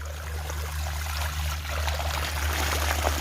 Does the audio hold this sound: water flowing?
yes